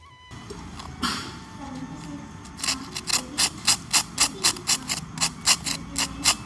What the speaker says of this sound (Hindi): मैं आपको इसका आवाज़ सुनाती हूँ कि कितना क्रिस्प बने हुए हैं।